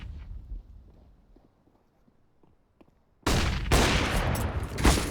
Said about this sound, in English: Oh, nice flashbang